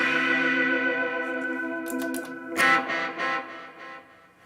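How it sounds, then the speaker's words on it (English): A sustained, layered instrument tone rings through a long delay effect, its notes echoing and fading, then short plucked bursts repeat in decaying echoes before trailing off. "We got a nice long delay."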